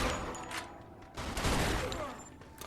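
Bursts of gunfire from a firefight in Mafia 2, with rapid volleys of shots clustered into several loud, chaotic bursts over a couple of seconds, fairly close and cutting through the game's background sound.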